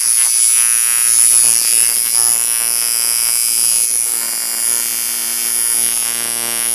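A coil tattoo machine runs close by with a steady electric buzz and hum, its pitch and loudness wavering only slightly throughout, with no talking.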